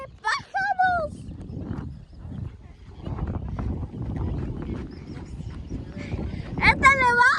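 Many migrating birds call at a beach in autumn, loud honking and quacking cries bursting near the start and end over wind and surf noise, while people talk excitedly throughout.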